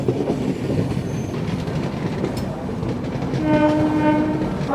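Duronto Express train arriving at Madgaon station in Goa, a loud steady rumble of wheels and carriages, with squealing wheels and a long sustained horn toward the end.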